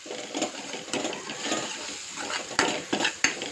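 Garam masala and turmeric sautéing in a pan for dal khichadi, with soft sizzling, a spoon scraping and stirring, and a few sharper clinks of utensil against the pan near the end.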